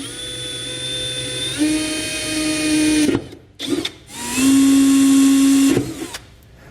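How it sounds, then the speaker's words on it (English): A power drill whines steadily at high speed drilling pilot holes in a 2020 Chevrolet Silverado for hitch base rails, pauses briefly, then spins up again for a second long burst. "we're just going to drill through"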